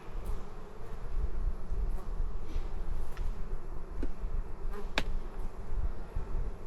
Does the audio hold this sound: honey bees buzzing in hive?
yes